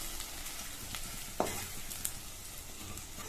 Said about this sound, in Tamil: சேர்த்துட்டு லோ ஃப்ளேம்லயே வச்சு 2 நிமிஷத்துக்கு நல்லா வதக்கி கொடுங்க